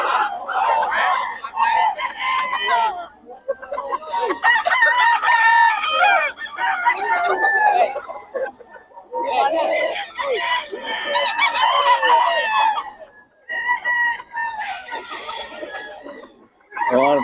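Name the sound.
Sweater gamecock rooster crowing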